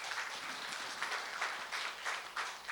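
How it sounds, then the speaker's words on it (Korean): Crowd clapping at a volunteer policy forum for a committee chairman, a continuous, fairly soft patter of many hands with a slightly distant, roomy quality. "신동섭 위원장님께 다시 한번 큰 박수 부탁드리겠습니다."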